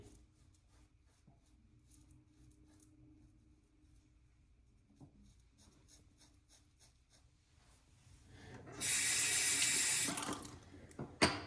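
A tap runs water into a sink during a shave, switching on near the end as a loud, steady gush that lasts a couple of seconds after a quiet stretch.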